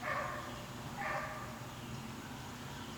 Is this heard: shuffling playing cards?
no